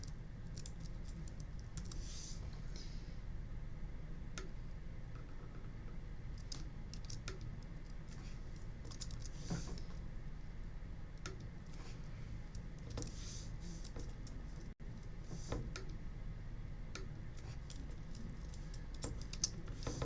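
Someone types on a computer keyboard that is new to them. A steady stream of small clicks and taps runs for about twenty seconds over a constant low hum, with no talking.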